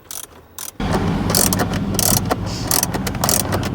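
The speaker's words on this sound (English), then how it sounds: "We'll go ahead and put the bolts back in." A ratchet tightens 10mm bolts that hold the factory display in a 2016-2021 Lexus LX570, producing a steady close-up clicking and whirring mechanical rattle after a brief quieter start.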